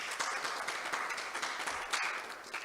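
An audience at a spiritual discourse claps steadily in dense, even applause, fairly faint, with no talk over it.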